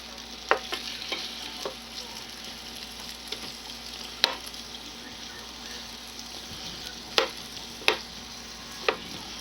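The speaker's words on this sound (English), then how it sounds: "I'm going to cook these onions down a little bit." Onions fry over high heat in a hot pan, a steady close sizzle broken by sharp scattered clicks of stirring utensils against the pan.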